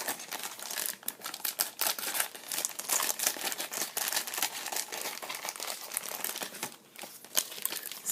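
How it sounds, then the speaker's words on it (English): Scissors cutting open a plastic bag of Re-Ment miniatures, heard as continuous close crinkling and rustling of thin plastic with sharp snips and crackles throughout. "I'll go ahead and cut open the bag of everything that we have here."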